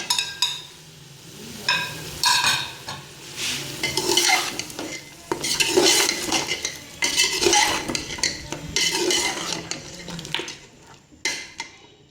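Spices go into aloo gosht frying in a pot, with a metal spoon stirring and scraping in repeated rhythmic bursts over a constant sizzle, close and fairly loud.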